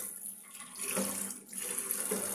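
Tap water running into a sink while fish are washed, a close, steady splash with small shifts as hands move under the stream.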